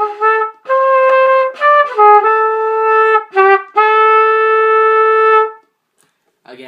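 A trumpet plays a melody line of sustained, bright notes with a few quick note changes, loud and close, then stops briefly before a short new note begins.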